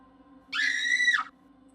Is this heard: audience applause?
no